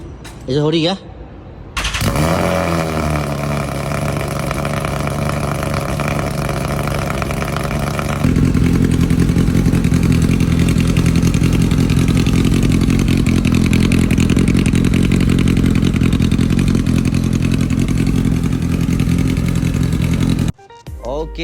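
Kawasaki Z800 or Z1000 motorcycle engine starting and settling into a loud, steady idle with a deep rumble, close by, with the level stepping up partway through.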